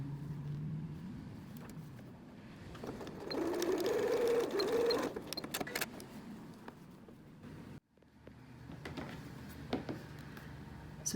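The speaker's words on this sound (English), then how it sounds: "we're going to be sewing the sides right here" Sewing machine stitching the sides of a tea towel apron, a close, steady mechanical whir that speeds up in the middle, stops abruptly, then resumes in shorter runs with light clicks.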